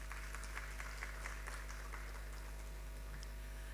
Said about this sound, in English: Let's clap for ourselves again